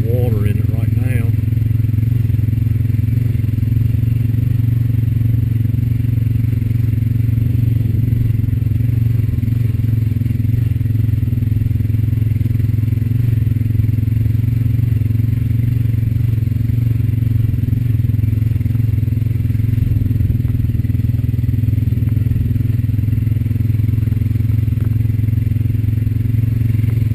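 A Honda Rancher 420AT ATV engine drones steadily in a high gear while crossing a shallow cattle water hole, a loud continuous motor hum with faint splashing and rattling throughout.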